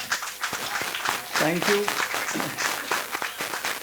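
Scattered clapping rises briefly, likely from a small group, and a voice speaks over it and says thanks. It comes during a hands-on medical procedure with dressings and gauze, with more talk around it.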